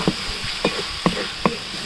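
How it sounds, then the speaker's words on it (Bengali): Garlic and ginger paste fries in a pan until brown for a Bengali duck egg korma. A steady close sizzle is broken by four evenly spaced stirring scrapes. "রসুন আর আদা বাটা ভালো করে বাদামি কালার করে ভেজে নিতে হইবে।"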